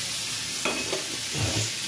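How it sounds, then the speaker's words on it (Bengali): Sweet pumpkin frying in a pan, a steady close hiss of sizzling oil with a couple of faint scrapes or taps from stirring. "মিষ্টি কুমড়ো, ভেজে নিয়ে"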